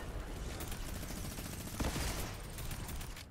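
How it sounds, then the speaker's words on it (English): Rapid, dense gunfire in a shooter video game on a creative map, with shots overlapping into a nearly unbroken volley. It stays loud and close throughout and briefly swells near the middle. "Keep on shooting, keep on shooting. Just don't stop shooting."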